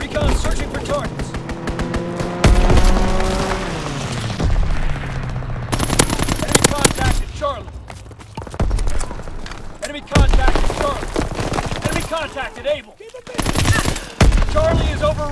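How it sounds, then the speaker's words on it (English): Rapid bursts of aircraft cannon fire from a strafing fighter plane in a wartime video game, loud chattering volleys mixed with engine roar and booming impacts, broken by short pauses and a radio voice. "Fighter pilot inbound. Strafing the target."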